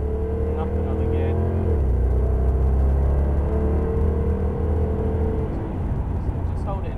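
A Jaguar XJR-S engine on the Thruxton race track drones loudly and steadily as the car accelerates, with a shift up a gear early on and the engine note climbing again afterward.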